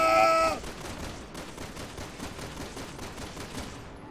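Gunfire in the video game Resident Evil 6, a short tonal chime followed by a rapid, steady crackling burst of automatic shots lasting several seconds at moderate loudness.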